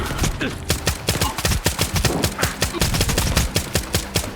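Rapid gunfire from the shooter game S.T.A.L.K.E.R. 2, a dense stream of sharp shots in quick, uneven bursts, loud and close, clearing a room with no pauses and no talk.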